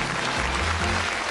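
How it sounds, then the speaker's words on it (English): A studio audience at a darts game show claps, a dense, even burst of applause that fills the short moment without any talk. "Give them a nice, encouraging round of applause."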